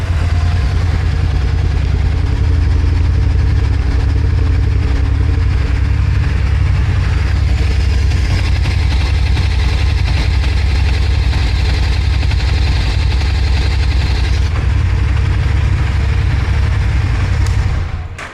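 A Harley-Davidson X440 single-cylinder motorcycle engine idles steadily, loud and close, with a deep, even throb that lasts nearly twenty seconds before cutting off. No one speaks.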